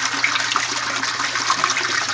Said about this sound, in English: I've got my trickle of water turned down as low as what I can and still make the bell siphon work